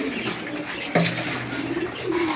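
Pigeons coo close by inside a loft in Chattogram where pigeons and chickens are kept for sale, low rolling calls overlapping continuously with a few sharper bird sounds mixed in.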